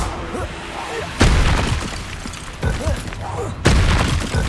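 Confringo and Bombarda spells in Hogwarts Legacy burst into three loud explosive booms spaced a second or so apart, each trailing into a rumble, with voices in the background.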